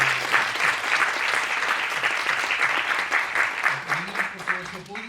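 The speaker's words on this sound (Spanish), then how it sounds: "les invito a que le demos un último aplauso a María por estar aquí con nosotros." Audience applause fills an auditorium at the close of an arts and architecture talk, dense, steady clapping sustained throughout at close range, with a faint low voice underneath toward the end.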